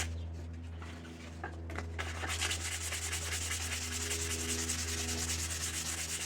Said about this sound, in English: why it is that I'm sanding it after I charred it